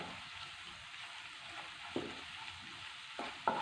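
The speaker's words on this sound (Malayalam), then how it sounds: "ഇനി നമുക്ക് ഈ സവാള ചെറുതായിട്ടൊന്ന് വഴറ്റിയെടുക്കാം" Onions with ginger garlic paste sauté in a pan with a soft, steady sizzle, punctuated now and then by light clicks of stirring, heard alone without talk.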